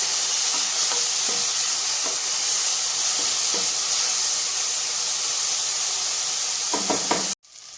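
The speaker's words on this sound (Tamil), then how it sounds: "ரெண்டு நிமிஷம் கீரையை வதக்கியாச்சு" Spinach sautéing in a pan gives a steady close hiss and sizzle throughout, with a few soft knocks and scrapes of a stirring spoon, before it cuts off abruptly near the end.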